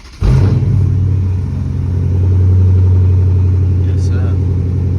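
A Dodge Charger SRT 392 with straight-pipe exhaust cold-starts, cranking and catching abruptly, then settling into a loud, deep, rumbling idle close by, with a brief faint voice near the end.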